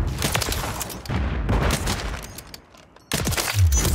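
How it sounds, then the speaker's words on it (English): Bursts of gunfire and booms from a first-person shooting video game, loud and close, coming in clustered volleys with a brief lull before a final heavy burst; no talking. "we are just running around shooting people."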